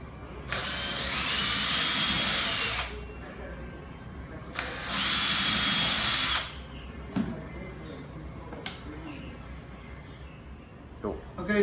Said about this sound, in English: first you drill the 2 holes all the way